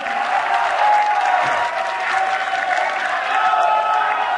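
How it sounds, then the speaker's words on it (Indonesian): Debate audience applauding and cheering for supporters at an evening political debate, a dense, steady wash of clapping with crowd noise filling the whole stretch. "Tepuk tangan untuk para pendukung yang bersemangat malam hari ini."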